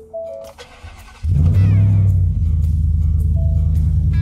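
A Ford work pickup truck engine cranks and fires up abruptly, then settles into a loud, deep, steady idle close by.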